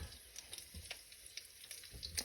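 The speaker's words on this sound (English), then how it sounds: "I hear the sizzle." Steady, gentle sizzling of pork and chive dumplings frying in a hot pan, a soft continuous crackle with small pops, no voices.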